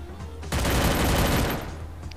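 Video game gunfire: a dense automatic burst of rapid shots lasts about a second and then cuts off, loud and close over faint background sound. No talk is heard.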